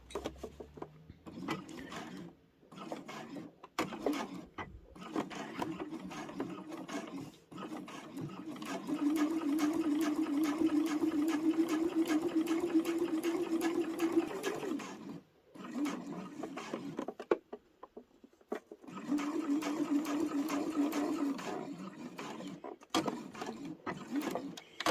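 A domestic sewing machine stitching in the ditch along a pressed crease line in a quilted pouch, with stitch length set to 3mm; steady whirring runs in long stretches broken by short stops, close and clear, with no speech.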